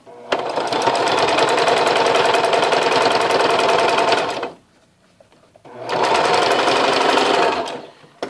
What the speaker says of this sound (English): Then I'm going to sew.